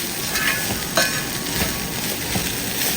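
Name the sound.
spice powders frying and being stirred in a pan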